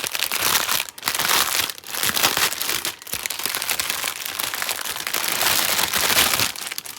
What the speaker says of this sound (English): So we're going to crinkle for just a minute.